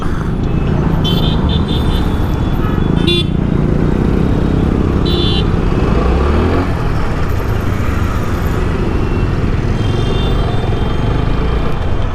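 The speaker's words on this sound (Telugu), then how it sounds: "ఘోరంగా ఉంది ట్రాఫిక్" Busy road traffic on a solo motorbike ride near Nashik, Maharashtra: a steady, close roar of cars and motorcycles, with a few short horn blasts cutting through around the start, middle and end.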